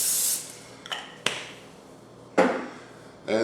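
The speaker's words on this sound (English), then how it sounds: "we're going to take some cooking spray and coat the inside" Cooking spray hisses briefly into a 9 by 13 inch baking dish, a short airy burst at the start, followed by a few clunks and knocks of the dish and can nearby.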